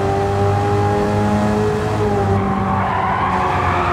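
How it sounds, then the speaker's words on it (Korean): A race car drifts and skids around Northern Isle Speedway in Gran Turismo 7, its engine droning steadily under continuous loud tire scrubbing for the whole stretch, with no one talking. "드리프트에 미친 차인 것인가?"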